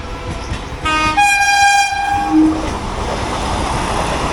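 A Vande Bharat express train bound for Jalna gives one long, loud horn blast lasting about a second, then its steady rumble carries on as it runs past.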